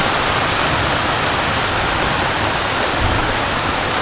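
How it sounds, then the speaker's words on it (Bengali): Heavy rain pours down in a steady, dense roar of hissing drops, loud and close, with no pauses or other sounds over it. "দেখো বন্ধুরা কি করে বৃষ্টি এসেছে"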